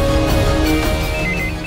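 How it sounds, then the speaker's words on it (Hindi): Telephone ringing with an incoming call during a Hindi drama scene, a steady electronic ring held at even loudness for the whole short stretch, with no voices over it. "सेठ क्यों फोन कर रहा है मुझे?"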